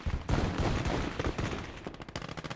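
Machine gun crew firing in the Gates of Hell World War II video game, a dense rattling burst of rapid automatic gunfire that runs continuously and loud, mixed with a few heavier reports.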